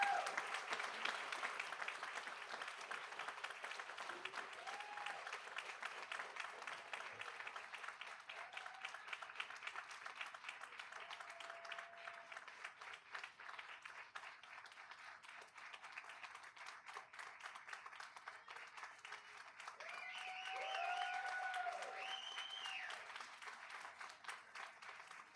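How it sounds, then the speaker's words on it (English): A room at a school board meeting gives a round of applause, with scattered clapping that sounds faint and distant and carries on for a long stretch, with chatter around it. "A big round of applause, Bonnie."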